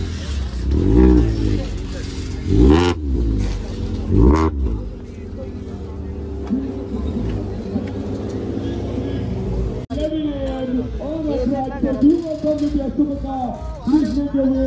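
Motorcycle engines revving at a drag racing event, loud rising and falling engine roars up close early on, then a lower steady engine drone under people talking and crowd noise.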